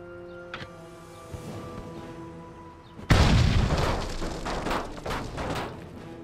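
A grenade explodes in the video game Full Spectrum Warrior with a sudden loud boom midway, followed by a rumbling, crackling aftermath over a quieter tonal background.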